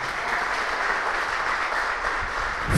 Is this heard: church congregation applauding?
yes